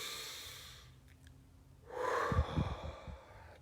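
Someone takes a slow breath during a breathing exercise, a faint inhale followed by a louder, close exhale with snort-like bursts.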